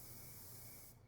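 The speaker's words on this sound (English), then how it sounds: "you can hear the spray paint going off." A steady hiss of spray paint from an aerosol can in the video game Black Ops 2, continuous for about a second before cutting off abruptly.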